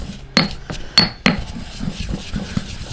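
Pork chops from a Złotnicka pig mixed together with lightly crushed garlic cloves in a dish: a few sharp clinks and knocks against the dish over soft wet stirring, close and moderate in volume.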